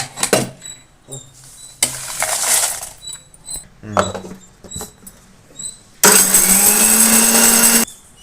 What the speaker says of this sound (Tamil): அடுத்தது மிளகாவை தனியாக நம்ம வந்து அரைச்சிக்கலாம்